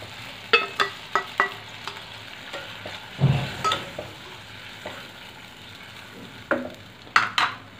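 Poppy seed egg curry stirred in a pan, a spoon scraping and knocking against the metal in irregular strokes over a steady low sizzle, close and fairly clear with no talk.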